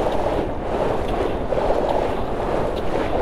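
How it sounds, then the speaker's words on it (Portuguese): Steady rain in a video game, a dense, even hiss of falling water that holds at one level throughout with no clear breaks and no voices. "Tá chovendo."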